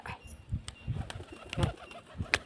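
Soft, low pigeon coos repeat in short bursts, with a few sharp clicks and a light flutter nearby, fairly quiet overall.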